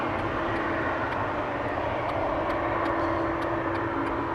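Fixed-wing airplane climbing after departure from Amsterdam Schiphol Airport, a steady, loud engine roar with a sustained tone that holds evenly throughout, with no talk over it.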